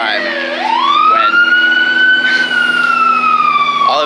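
A wailing emergency vehicle siren sweeps up and holds steady, loud and close, with a second tone layered underneath, the pitch rising and falling continuously throughout.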